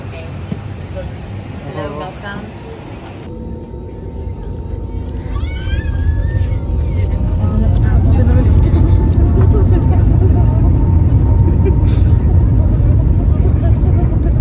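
An airplane's engines rumble and swell into a loud, rising roar as it takes off, with people talking over the noise.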